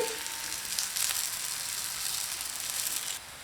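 Bottle gourd ragi adai sizzling in oil on a pan over medium flame, a steady close hiss of frying that carries on evenly and then eases slightly near the end.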